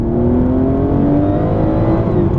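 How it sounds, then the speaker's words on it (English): A loud Porsche 964 lightweight sports car engine drones and revs steadily, its pitch slowly rising and falling, heard close up with no voices. "It's got obviously a character and a sound which is all of its own."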